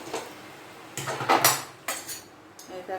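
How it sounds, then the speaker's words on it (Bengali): Cooked kakrol, teasel gourd, tipped onto a metal plate with a spoon, giving a few loud clattering scrapes and clinks in uneven bursts, close up with no talking. "দেখো আমি থালে ঢেলে দিচ্ছি।"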